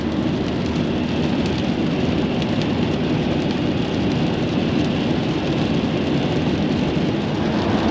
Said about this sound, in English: There's plenty of rain going on